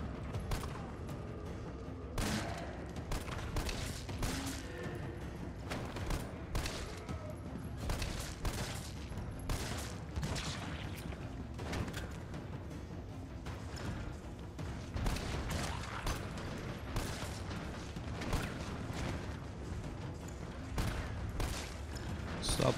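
Dense gunfire in the Resident Evil 3 Remake video game, rapid sharp shots fired in continuous bursts with booming impacts, loud and close throughout, with occasional faint talk underneath.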